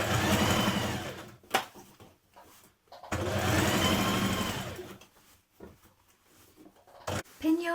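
A sewing machine understitches the lining of a jumpsuit bodice in two loud, close runs of a few seconds each, with quiet pauses and small handling noises between.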